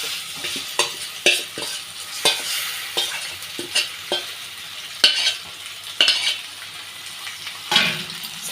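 Marinated chicken stirred in a frying pan for chicken curry, repeated close scraping and clattering strokes of a spoon against the pan over a low sizzle, irregular in rhythm, with no talking.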